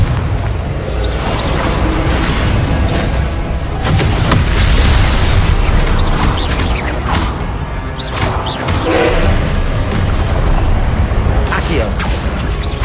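Repeated Confringo blasting spell explosions land in the Hogwarts Legacy video game, with thuds and booms mixed with mechanical clatter under steady game sound, while a voice calls out spell names.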